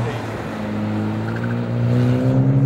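A Hyundai i20 N hot hatch drives with a steady, droning engine note that climbs slightly in pitch as it accelerates near the end.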